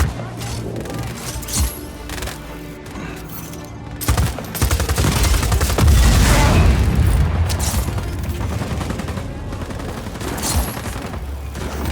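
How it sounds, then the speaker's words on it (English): Heavy gunfire and booming blasts from the Just Cause 4 game, with rapid bursts and dense rattling shots building into a loud sustained barrage, close and intense. "Taking fire!"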